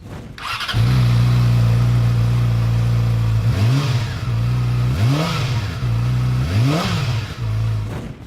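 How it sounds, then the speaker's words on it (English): A Yamaha R6 motorcycle with a stock exhaust idles steadily, then revs sharply three times in quick bursts, each rise and fall clear and close, with a fairly mellow exhaust tone. "Here's the sound of an R6 with a stock exhaust."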